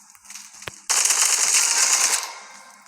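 Sustained automatic gunfire from a Roblox shooter game erupts after a single sharp shot, a dense, loud rattling burst lasting over a second before tapering off.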